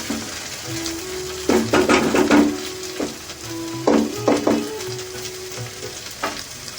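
Paneer pulao with rice and ghee fries in a pan while a spatula stirs it, bursts of scraping and sizzling coming in short clusters between quieter moments of soft crackle, close and with no voices.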